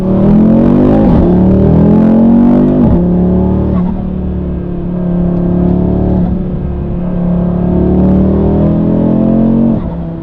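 A 2024 Audi RS3 8Y engine runs loud and close after an oil change, a steady low droning idle with a few small revs and dips in pitch, no talk over it.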